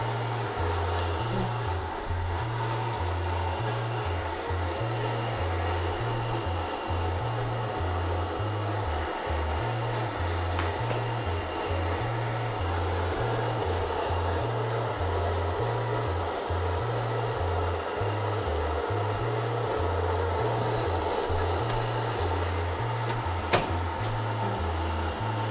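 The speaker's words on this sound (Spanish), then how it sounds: "Vamos a empezar a licuar. Que quede bien, bien, bien licuado." A blender whirs steadily while blending the ingredients for a pepián sauce. Its motor hum holds an even level throughout, with a regular pulsing pattern and no voices.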